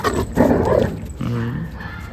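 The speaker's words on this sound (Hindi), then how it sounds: "ये गुर्रा गुर्रा के खेलता है।" A German Shepherd growls playfully in rough, rumbling bursts up close, with people talking over and around it.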